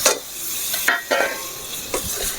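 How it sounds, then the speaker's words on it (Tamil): Squid pieces and tomatoes fried in a hot pan and stirred, a continuous sizzle broken by a few scraping stir strokes, close and fairly loud with no voices. "எல்லாத்தையும் நல்லா கலந்து விட்டுக்கலாம் இது தக்காளிலாம் நல்லா வேகட்டும்"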